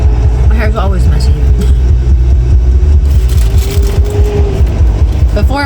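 A car driving with the windows down gives a steady low engine rumble and rushing wind noise throughout, with brief whistling tones near the start and a faint sustained hum.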